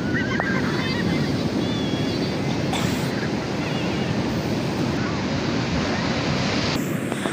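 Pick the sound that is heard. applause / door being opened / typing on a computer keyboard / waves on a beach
waves on a beach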